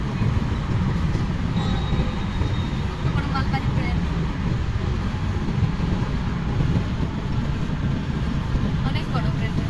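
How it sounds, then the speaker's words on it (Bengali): A large freight train rolls past, a continuous heavy rumbling roar with rattling wagons and a faint squeal, heard from nearby while people talk over it. "অনেক বড় ট্রেন মালবাহী ট্রেন না"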